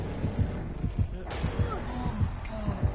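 The killer's heartbeat warning in the game Dead by Daylight thumps in a steady, repeating double-beat rhythm. It stays loud and close throughout, with faint other game sounds behind it.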